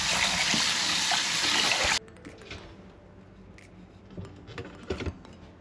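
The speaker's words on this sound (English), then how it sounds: "Now it's time to wash the rice." Rice being washed in water: a loud rushing pour for about two seconds cuts off sharply, followed by quieter squishing, swishing and trickling as grains are stirred and rubbed in the bowl.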